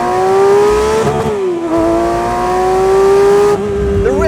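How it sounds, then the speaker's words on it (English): Engine of a 2024 Porsche 911 S/T with a manual gearbox, loud and close, its revs dropping smoothly between gear changes before pulling up again, with a sustained steady engine note and no talking. "The way that the revs fall in this car when you change gear."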